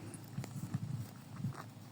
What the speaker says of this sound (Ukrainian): Вон нашого осла кудись ведуть кіношники.